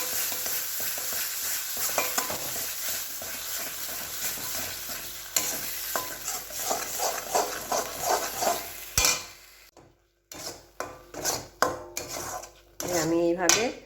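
Food with a spoonful of sugar being stirred dry in a pan: close, busy scraping and sizzling for about nine seconds, then a brief gap followed by irregular clatters and scrapes of the utensil.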